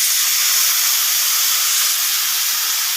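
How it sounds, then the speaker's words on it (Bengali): Mustard paste hitting a hot pan of fenugreek greens, a loud, steady, close hiss of steam and sizzle that continues evenly throughout without talk. "চিনি দিয়ে নেড়ে চেড়ে এবার আমি এর মধ্যে সর্ষেটা দিয়ে দেবো"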